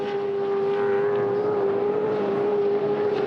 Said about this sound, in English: Someone's got a car that sounds decidedly off song.